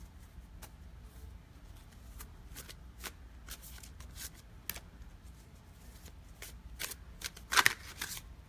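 Playing cards are shuffled repeatedly, with crisp riffling flutters and soft taps recurring over a quiet background rumble.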